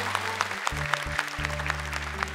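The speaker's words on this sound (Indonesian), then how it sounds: "Tepuk tangan untuk Wahid." Studio audience applause on the televised Hafiz Indonesia 2018 Quran memorization show: steady, dense clapping over a low sustained musical backing, continuous and moderately loud throughout.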